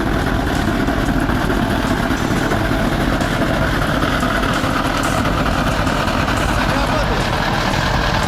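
Heavy Kamaz truck engine roaring loud and continuous during a vehicle recovery, a dense low-pitched rumble filling the whole stretch, with voices mixed in.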